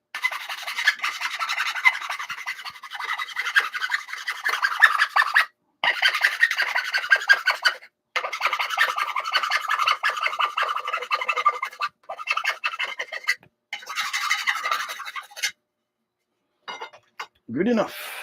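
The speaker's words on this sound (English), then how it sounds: "That's obviously a file," A hand file rasps across a workpiece in repeated scraping strokes, close and clear, broken by short pauses between bursts, with a faint low sound at the very end.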